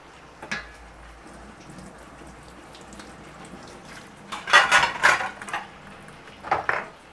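Tomatoes drop into a cooking pot for a large chicken biryani, a few soft wet thuds and clatters of utensil against the pot, close and moderately loud amid quiet kitchen background, with no talk.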